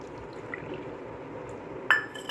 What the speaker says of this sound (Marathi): या तांदूळच्या पिठामध्ये आपण बरोबर एक वाटी पाणी घालून मिक्स करून घ्यायचं